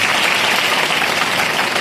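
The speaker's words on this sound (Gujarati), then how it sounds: "જોરદાર તાળી પાડ્યો એ લોકો." Parents in the audience at a school parents' meeting applaud after a children's dance performance, a dense, loud, continuous clapping from a crowd with no voices heard.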